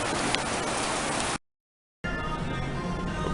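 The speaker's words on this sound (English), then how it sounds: "I've got a feeling it was dry 5 minutes ago, and now it's just getting heavier and heavier." Heavy rain pours down steadily in Hengchun, Taiwan, a dense loud hiss of drops on surfaces broken by a brief silent gap before resuming.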